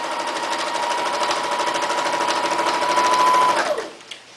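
A sewing machine stitches fabric with batting for an oven mitt puppet in one loud, steady, rapid run that stops abruptly near the end, leaving a few faint handling noises.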